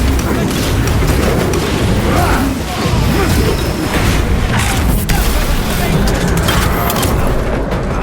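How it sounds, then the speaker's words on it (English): Frag grenade blast in the Warhammer 40K: Space Marine 2 video game, a dense roaring wash of explosions and crashing debris that stays loud throughout, with a voice speaking over it. "Using frag grenade."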